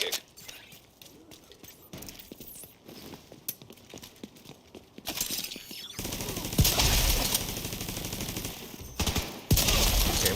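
Gunfire in the shooter video game The Division 2, with rapid bursts and fusillades of shots. The firing is sparse and lighter at first, then turns into louder, denser automatic fire in the second half.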